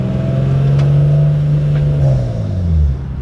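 An Infiniti G35's engine hums steadily as the car drives, with a low drone that dips and shifts near the end as if changing gear.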